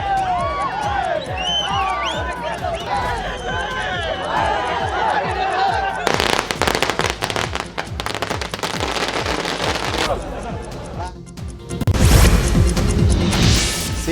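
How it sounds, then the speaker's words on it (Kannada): Firecrackers burst by Congress party workers celebrating a rebel Congress candidate's win: loud cracking bursts and crashing pops over a dense crowd din with voices, strongest in the middle and near the end. "ನಿನ್ನೆ ಪಟಾಕಿ ಸಿಡಿಸಿ ಸಿಹಿ ಹಂಚಿ ಕಾಂಗ್ರೆಸ್ನ ಕಾರ್ಯಕರ್ತರು ಸಂಭ್ರಮಿಸಿದರು"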